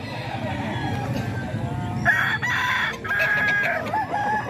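Roosters crow loudly at a Bocaue poultry market, two long crows standing out over clucking hens and a busy, low background din.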